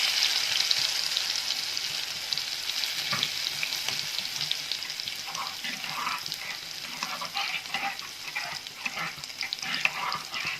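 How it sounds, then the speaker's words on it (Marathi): A tempering of mustard seeds sizzles in hot oil in a kadhai as green chilli thecha goes in, with continuous hissing frying and crackling spatters and stirring throughout. "फोडणी तरली की थोडासा ठेचा टाकून घ्यायचा."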